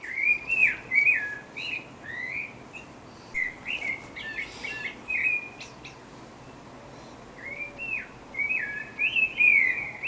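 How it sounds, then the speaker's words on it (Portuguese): A sabiá thrush sings clear, fluting whistled phrases in short bursts separated by pauses, moderately near over a soft background hiss. "Este é o som, é o canto de um sabiá"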